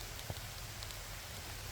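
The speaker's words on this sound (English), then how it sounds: "Oh no, it's raining." Steady rain falls outdoors where ducks are kept, a soft, even hiss of drops on surfaces that continues throughout without any voices.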